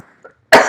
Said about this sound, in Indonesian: Maaf agak sedikit batuk.